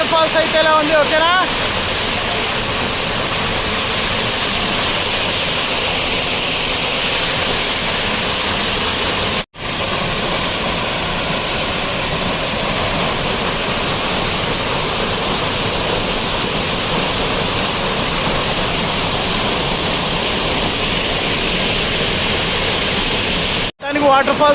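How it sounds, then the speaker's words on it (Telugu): Maredumilli waterfall pouring in a forest setting, a dense, constant roar of falling water that stays loud and unbroken from start to finish. "వాటర్ ఫాల్స్ అయితే ఎలా ఉంది"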